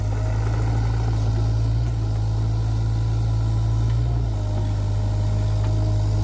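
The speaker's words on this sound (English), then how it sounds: "You can hear that AC unit cut down on the horsepower." A SANY SY35U mini excavator's engine drones steadily close by with its air conditioning running, the low constant hum dipping slightly in pitch twice as the load drags the power down.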